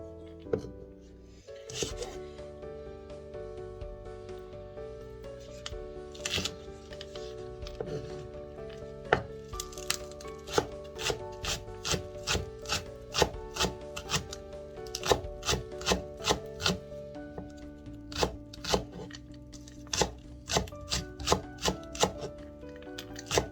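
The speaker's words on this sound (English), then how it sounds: "we're going to be chopping up about 3 spring onions too" A knife taps rhythmically on a cutting board, chopping spring onions in quick, steady strokes that grow more regular and crisp over time.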